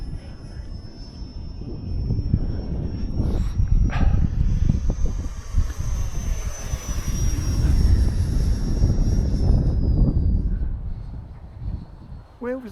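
A military jet, tied to an English Electric Lightning display with a tanker from Mildenhall nearby, makes a low gliding pass, a broad roaring rumble with a falling high whine that swells and fades over about twelve seconds, with crowd voices underneath.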